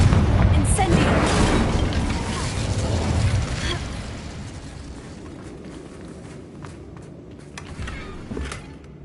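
Confringo and Incendio spell blasts in the video game Hogwarts Legacy: a loud, booming fiery burst opens, then rumbles and fades, followed by a few softer pops and crackles.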